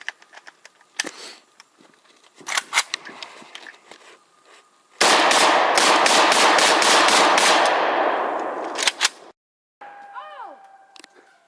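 A gun fires about ten rounds outdoors, first in a few loud separate cracks, then a dense rapid burst lasting several seconds, with a voice briefly heard near the end.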